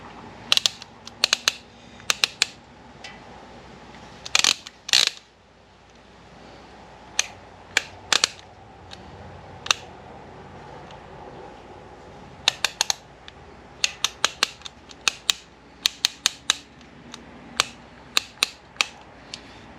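A click-type torque wrench set to 84 inch-pounds tightens fasteners during a full service on a 2019 Harley-Davidson Street Glide CVO, sharp ratcheting clicks in quick clusters with gaps between, close and loud.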